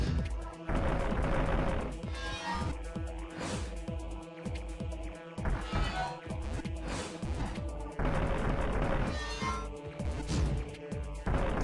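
Rapid video-game gunfire blasts at a boss in AM2R, a dense, loud barrage of repeated shots and crashing impacts that runs almost without pause.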